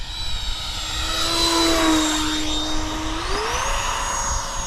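A Freewing F/A-18 Hornet 90mm electric ducted-fan RC jet comes in to land with flaps down, a steady loud whine that drops as it passes close, then rises again as throttle is added.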